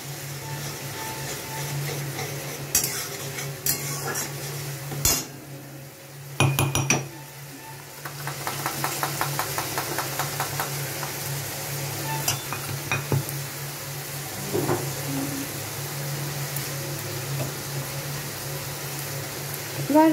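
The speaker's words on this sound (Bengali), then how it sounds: "ঢেলে দিয়ে এটা আমি নাড়তে থাকবো যাতে তলায় লেগে না যায়।" A spoon scrapes and clinks around a pan while ground masala paste sizzles in oil for a Bengali jackfruit curry, with irregular stirring knocks and a steady frying hiss underneath.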